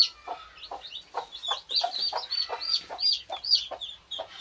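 A free-range hen clucks in short repeated bursts with sharper high calls mixed in, close and clear against a quiet background, no talking.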